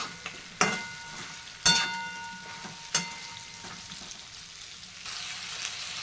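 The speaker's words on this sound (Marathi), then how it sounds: "अशा प्रकारे बघा आता मस्त तेलात परतून घेतो ह्याला अगोदर चांगलं" Stuffed green chillies frying in oil in a pan: a steady soft sizzle with a few sharp clacks of a spatula stirring, close and alone without talk.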